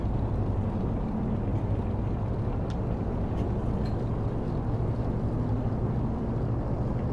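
Twin aircraft engines hold a steady run-up at 1700 RPM with the parking brake set at the holding point, a dense continuous low drone that stays loud and even throughout, with no speech over it.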